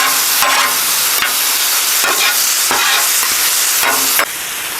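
Philly cheesesteak filling of meat and vegetables fries steadily in a hot pan, with a continuous loud sizzle broken by several brief scraping stirs of a utensil, no voices.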